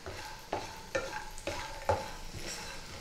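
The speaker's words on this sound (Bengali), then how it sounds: "একটু ধৈর্য ধরে বড়িটা হালকা আঁচে নেড়ে ভাজতে হবে।" Bori lentil dumplings frying on a low flame, with a soft continuous sizzle broken by regular spatula scrapes and stirring knocks roughly every half second, close up and with no talk.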